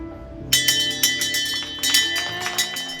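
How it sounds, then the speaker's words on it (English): A bright metallic bell rung by a cancer patient marking the end of treatment sounds in a quick series of clanging strikes, each ringing out briefly, loud and close. "rang the bell."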